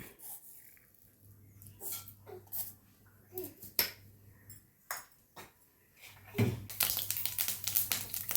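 Scattered sharp pops and crackles of mustard seeds bursting in hot coconut oil, starting sparse and building into a dense, continuous spattering crackle near the end.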